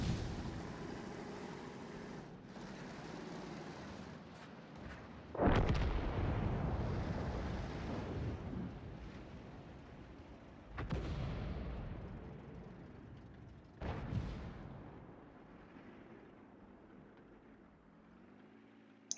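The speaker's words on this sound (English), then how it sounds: "the SPGs are blind shooting" Self-propelled artillery firing in a tank battle game: three or four heavy, booming shots spaced several seconds apart, each rumbling off slowly over a low, steady engine-like background.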